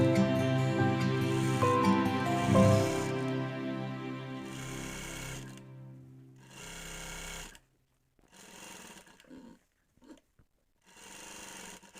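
Sewing machine stitching a rever collar to the end of the seam, a loud steady whirring run that stops partway, followed by quieter short bursts of machine noise and handling.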